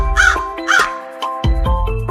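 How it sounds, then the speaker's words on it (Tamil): A crow caws several times in quick succession, harsh and loud, with a faint steady tone humming in the background. "காகம்"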